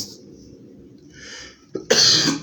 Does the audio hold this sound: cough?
yes